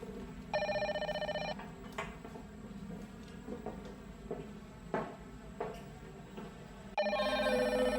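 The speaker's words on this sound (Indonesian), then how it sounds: "saya angkat telepon dulu ya" An indoor telephone rings close by in two bursts of bright, repeated trilling, one early and one near the end, with quieter room sounds between them.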